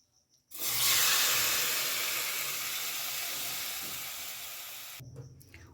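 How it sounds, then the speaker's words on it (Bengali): Marinated small prawns hit a hot wok with a sudden loud, steady sizzle that starts after a brief quiet moment and holds for several seconds, fading only slightly before a clatter near the end. "এখন এই কড়াইয়ের মধ্যে আমি দিয়ে দেব সব কিছু দিয়ে মেখে রাখা চিংড়ি মাছ"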